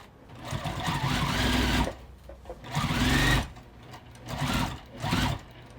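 A sewing machine stitches a quilted bag in four close, loud bursts of fast whirring separated by short pauses, including a back stitch at a corner.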